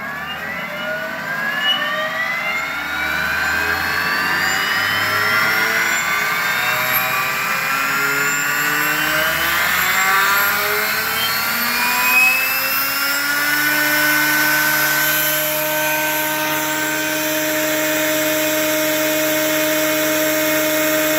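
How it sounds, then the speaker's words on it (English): An iKon 2 RC helicopter with a Hobbywing 160 V4 governor soft-starting, its motor and rotor whine gliding smoothly upward in pitch and settling into a steady, even hum at speed, close by with no talk. "I'm going to go ahead and spool it up here"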